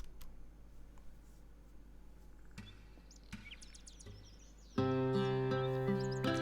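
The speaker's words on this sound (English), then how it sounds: "listening to the echoing sound of chirping birds" Birds chirp in scattered bursts, echoing faintly around the rubble of a ruined, silent town, with a louder tonal sound joining near the end.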